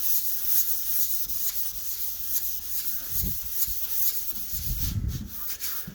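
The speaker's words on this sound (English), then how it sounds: "using a flat pad with a 400, 500 grit sandpaper on there. And I'm just sanding it back" Sandpaper of 400 to 500 grit on a flat pad rubs back the primer on a Fiat Coupe under restoration, a continuous close scratchy hiss with rhythmic back-and-forth strokes and occasional heavier thumps.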